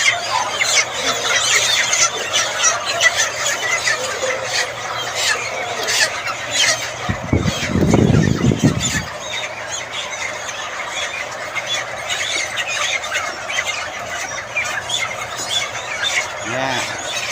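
Broiler chickens about 25 days old squawk and squeal in a crowded flock on a farm in Leyte, a continuous shrill chatter with a louder low burst near the middle.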